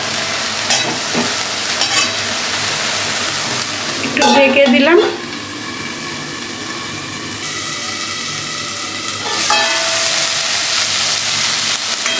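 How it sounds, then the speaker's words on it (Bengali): Greens frying in a pan with salt and turmeric while a ladle stirs and turns them, giving a steady sizzle with a brief louder scraping burst partway through and a rise again near the end. "যে শাক একটু হাতা দিয়ে এভাবে নেড়ে চেড়ে দেবেন"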